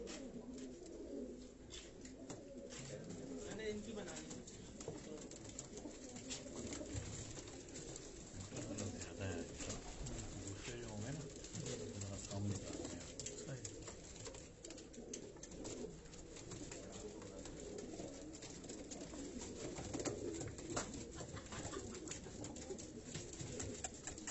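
Pigeons coo steadily at a fancier's loft in Karachi, a continuous low murmur of many birds close by, with faint voices now and then underneath.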